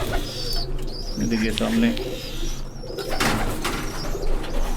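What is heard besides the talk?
breeder pigeons cooing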